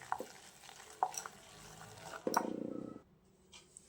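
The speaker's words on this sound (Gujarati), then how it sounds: "અને લગભગ 5 થી 7 મિનિટ સુધી આપણે આ રીતે મિક્સ કરીશું." Shrikhand mixture stirred by hand in a bowl, giving a soft, wet scraping swirl that builds into a steady burst of rhythmic strokes before stopping.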